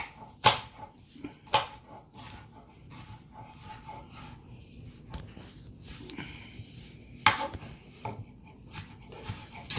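A small, not very sharp knife chopping onion, giving a few sharp knocks against the board spaced irregularly among quieter cutting sounds, close and moderately loud with no talk.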